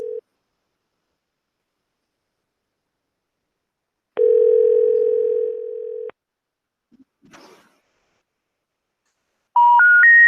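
A telephone line with a short tone blip, then a steady dial tone for about two seconds, a faint click, and finally a rising three-note intercept tone sequence, with no speech.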